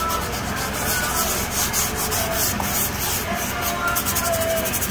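A brush scrubbing an ice flaker machine gives a continuous dense, close scratchy scrubbing, steady in level for the whole stretch.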